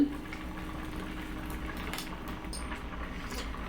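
Mustard seeds splutter in hot oil in a pan, with scattered faint pops and crackles over a low, steady sizzle.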